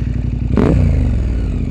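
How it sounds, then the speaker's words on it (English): A loud, steady KTM 1290 Super Adventure R motorcycle exhaust drone rumbles throughout, with a brief clattering scrape in the middle. "Listen to that exhaust over there."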